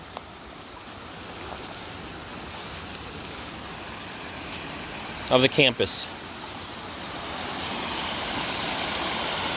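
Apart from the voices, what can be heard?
water flowing fast over rocks after rain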